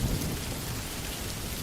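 Rain falling steadily outdoors, a dense, loud hiss of drops with a low rumble beneath, continuous and unbroken, with no voices.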